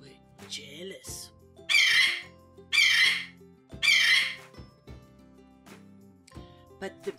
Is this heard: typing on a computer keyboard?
no